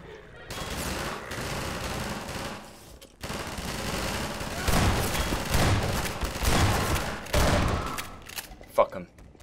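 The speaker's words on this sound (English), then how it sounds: "You're experiencing some trouble with turrets again." Automated turret fire in Half-Life 2 comes as sustained rapid bursts, with a pause near three seconds and a louder stretch later. A voice talks over part of it.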